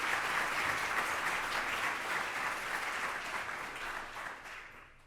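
Steady audience applause at a forum opening fills the room, a dense wash of clapping that holds evenly for several seconds before thinning and fading out at the end.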